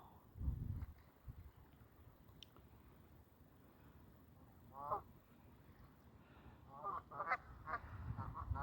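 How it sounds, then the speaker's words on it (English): Canada geese honk on a West Coast shoreline in New Zealand's South Island, a few faint, scattered calls at a distance over low outdoor rumble, with no talking. "I think they're Canadian geese."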